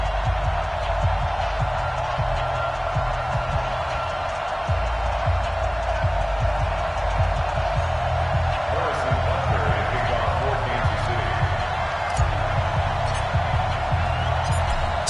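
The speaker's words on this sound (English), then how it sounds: "This crowd is ready as their guys get set to match up with the Green Bay" A stadium crowd roars in Madden NFL 2020 ahead of a Chiefs–Packers game, a steady loud crowd bed running the whole time with scattered bursts and thumps.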